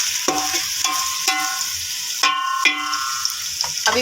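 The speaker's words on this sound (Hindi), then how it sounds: "तो अब इसमें हम प्याज ऐड कर रहे हैं।" Onions dropped into very hot oil for Karachi-style aloo chana biryani, a bright, steady sizzle and spatter with a few sharper crackles and stirring clatters, close and loud, no talking.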